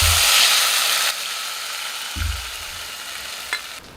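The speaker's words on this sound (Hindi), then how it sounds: "और अब हम ये घोल को चलाते हुए डालेंगे इस प्रकार।" A loud sizzle of hot oil tempering cuts off abruptly, followed by scraping and stirring in a pan as potato-snack batter is poured in, with a metallic clink.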